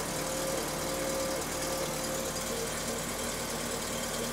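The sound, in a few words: 1986 Toyota MR2 turbo engine idling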